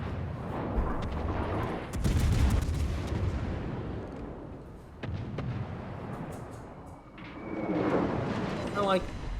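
Naval gunfire from warships in World of Warships, heavy booming salvos and blasts rolling in bursts, with a player talking over much of the action.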